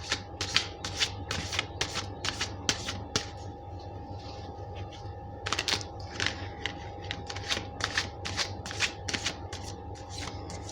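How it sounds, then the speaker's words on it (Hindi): Tarot cards are shuffled by hand in quick, crisp riffling bursts, repeated many times with a brief pause in the middle, close and clear with no talking. "तो चलिए मैं पहले कार्ड्स शफल कर लेती हूँ"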